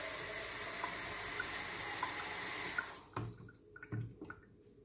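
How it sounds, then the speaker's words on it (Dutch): Water running from a tap into a container, a steady loud hiss for about three seconds, then stopping and giving way to faint drips and splashes in a quiet room. "ik vul hem gewoon met water"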